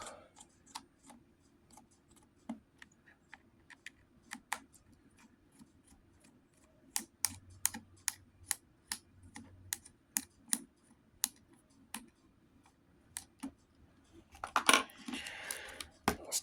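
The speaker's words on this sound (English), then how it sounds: "Let's undo the Phillips head screws." Phillips head screws come out of a 3DS XL handheld console with a small screwdriver, making a quiet, close series of sharp clicks and ticks that grow denser midway through, followed by a brief rustle.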